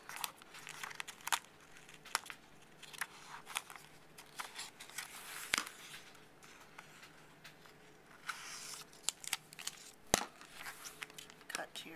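A plastic protective cover on a paperback book is smoothed along the spine and snipped with scissors, giving intermittent crinkling, rustling and sharp snips close to the microphone, with quiet pauses between.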